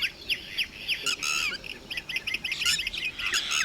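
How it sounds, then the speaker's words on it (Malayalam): A red-wattled lapwing gives repeated sharp, shrill alarm calls at a spectacled cobra, loud and fairly close, in rapid bursts of strident notes over a faint outdoor background. "ഒരു റെഡ് വാറ്റിൽ ലാപ്പിംഗ് എന്ന തിത്തിരി പക്ഷി ഇവിടെ സൗണ്ട് ഉണ്ടായിക്കൊണ്ടിരിക്കുക."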